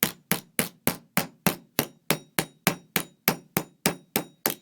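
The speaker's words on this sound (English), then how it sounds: "looks like I need to do the nylon hammer again" A nylon hammer strikes a metal stamp about fifteen times in a steady, evenly spaced rhythm, each blow a sharp close tap with a short ringing decay and no voices over it.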